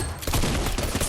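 Pistol gunfire in the Fortnite video game, a quick burst of several sharp shots in rapid succession, loud and close, with no talking.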